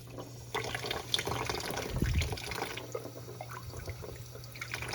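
Water runs steadily while filling the hose of an Eheim canister filter, such as an Eheim classic 2217 or 600, with a continuous close trickling and splashing and a low hum underneath.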